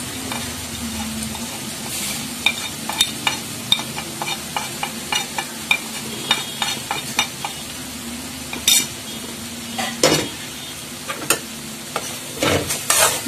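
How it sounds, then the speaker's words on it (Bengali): Chickpea ghugni is sautéed with cumin powder in a pan. A spoon scrapes and knocks against the pan in repeated irregular strokes over a continuous frying sizzle, and the strikes grow louder toward the end. "এবার এটাকে ভালো করে একটু 2-3 মিনিট একটু কষিয়ে নেব।"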